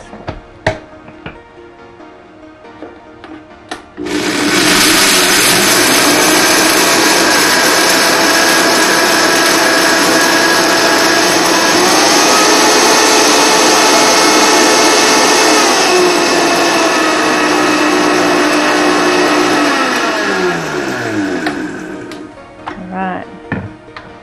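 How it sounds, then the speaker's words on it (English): Vitamix blender grinding hard raw cacao nibs into cocoa powder: a loud, steady high-pitched motor roar with rattling grit runs about sixteen seconds, then winds down, with light handling clatter before and after. "Throw those in the Vitamix."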